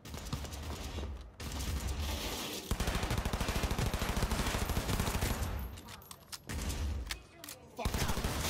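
Sustained rapid automatic gunfire in Cyberpunk 2077 chatters loudly for several seconds, broken by short pauses and a few separate bursts.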